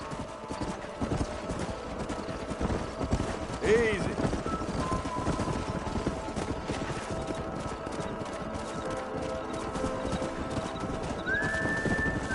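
Horses in the video game Red Dead Redemption clop along in a continuous hoofbeat rhythm, with a whinny partway through, under a short spoken line and game ambience.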